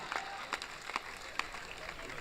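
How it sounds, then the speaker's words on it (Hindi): Short, moderate burst of audience applause at a Hindi comedy poetry recital, with scattered claps and some crowd murmur. "तालियां बजाइए"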